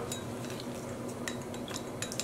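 A teaspoon clinks lightly against a dye container several times while yellow dye is added for speckling merino/silk yarn, the faint metallic taps scattered over a steady background hum.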